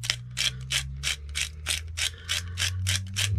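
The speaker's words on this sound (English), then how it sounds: "good grind of pepper" A hand pepper mill grinds black pepper over meatball ingredients, giving about a dozen evenly spaced ratcheting crunches, close and fairly quiet, with no talking.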